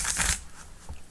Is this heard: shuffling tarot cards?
yes